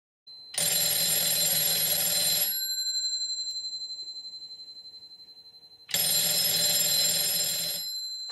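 A telephone bell rings loudly at the called party's end of a payphone call: two long, clangorous rings separated by a pause, with nobody talking.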